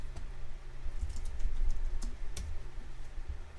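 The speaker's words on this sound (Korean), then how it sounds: "원하는 글자를 치시고" Clicky keystrokes on a computer keyboard sound in a quick, uneven run, close and fairly loud over a low steady hum, with no talking.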